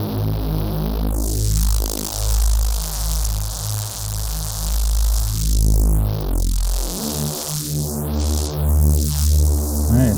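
A distorted Reese bass synth in Ableton Live plays a loud, gritty, buzzing tone, with notch-filter sweeps moving down and up through it, continuous and alone.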